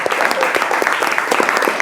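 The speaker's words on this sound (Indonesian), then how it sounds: "Untuk saya tepuk tangan dulu untuk semuanya" A burst of lively applause from a class group, many hands clapping quickly and evenly, loud and close, with no talking.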